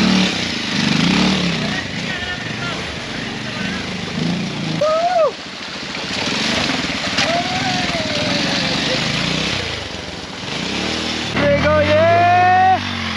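A motorcycle labours up a steep, slippery off-road track in fog toward Piuse Taal, its engine revving and droning close by with shifting pitch, while voices talk over it in places.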